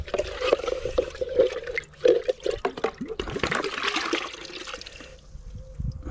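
A brush scrubs and rummages inside the water-filled container of a Wagner XVLP 5000 paint sprayer, giving close, irregular sloshing and scraping strokes with wet splashes that fade toward the end.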